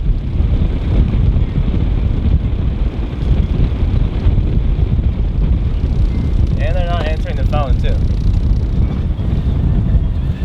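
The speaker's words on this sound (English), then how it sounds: "this wind is kind of gusting" Strong, steady gusting wind buffets the microphone on a boat with a loud low rumble throughout, while a person speaks briefly partway through.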